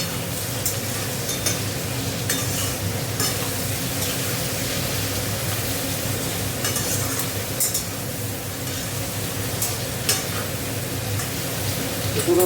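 Small fish frying in a pan with tomato, turmeric and chili powder, a steady close sizzle with occasional stirring scrapes, continuous and moderately loud.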